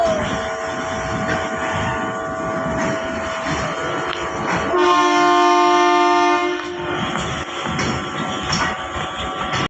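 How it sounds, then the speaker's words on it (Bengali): A train pulls into a station and sounds a loud, sustained horn about midway through, over a constant rumble of the approaching train and a busy platform. "আমার ভাই যেই ট্রেনে আসছে সেই ট্রেনটা ঢুকছে এখন"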